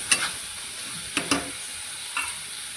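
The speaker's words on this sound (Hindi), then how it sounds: "इसे हमें फ्राई कर लेना है।" Tomatoes with salt fry quietly in a pan, a soft steady sizzle broken by a few sharp scraping stirs of a spoon.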